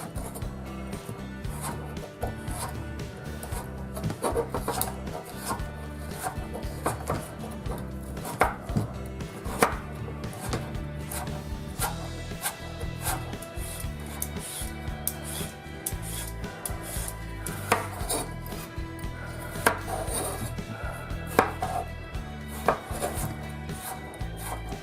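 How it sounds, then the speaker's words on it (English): A knife chopping carrots into julienne on a cutting board, with rapid, steady, close-up knocks continuing throughout and occasional louder strikes, no talk. "Time to prepare our carrots. We're going to cut them into julienne."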